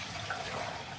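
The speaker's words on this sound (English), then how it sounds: "So I'm just gonna chuck this water away and do a new batch" Dirty water from washing baby items is tipped out, giving a steady, moderate splashing pour into a sink or drain with no talking.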